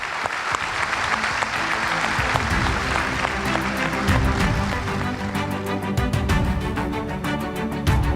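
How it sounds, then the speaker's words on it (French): An audience at a Crédit Agricole general meeting in Evreux claps loudly and steadily for several seconds, a dense, continuous wash of applause from a large crowd. "je voudrais, si vous en êtes d'accord, qu'on l'applaudisse très fort"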